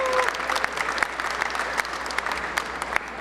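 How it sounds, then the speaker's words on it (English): Applause from an audience at an India Independence Day ceremony at the Pennsylvania Capitol, a steady patter of clapping hands at moderate distance, lasting a few seconds. "That applause is for me or for India Independence Day?"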